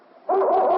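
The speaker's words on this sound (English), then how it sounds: "It's Yukon King, swiftest and strongest lead dog of the Northwest" A sled dog in an old time radio drama of the Yukon gives one loud, sustained bark-like howl lasting just over half a second after a faint lead-in, with no talking over it.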